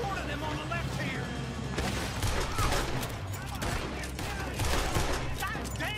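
A gunfight in Red Dead Redemption 2, a barn shootout crackling with dense, continuous shots from several guns at once, some louder bangs standing out, with a voice talking over the firing.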